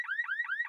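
A car alarm sounds in a repeating rising electronic whoop, three quick swoops cycling steadily, clear and fairly close with nothing else around it.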